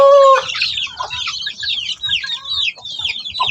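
Native chicks chirp in rapid high-pitched peeps, close and loud, with a few softer clucks from adult chickens low underneath, and no talking.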